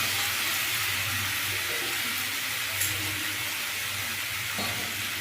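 Ground spices hit hot oil in a pan of turnip sabzi, giving a steady, close sizzle and hiss that runs evenly throughout with a faint clink of stirring.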